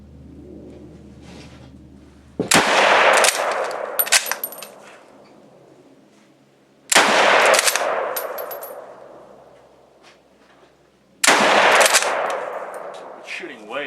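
Lee Enfield No.1 Mk. III* (SMLE) rifle fired outdoors: three loud, sharp shots spaced several seconds apart, each with a long ringing decay and faint metallic clinks between them.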